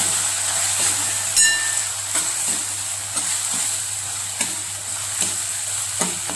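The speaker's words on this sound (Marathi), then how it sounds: "आता याच्यामध्ये थोडीशी हळद, त्याच्यानंतर थोडासा हिंग टाकूया, मिक्स करून घेऊया।" Turmeric and asafoetida frying in hot oil for a dhaba-style whole masoor curry, a constant hiss with periodic spoon scrapes and taps as the mix is stirred, close and alone.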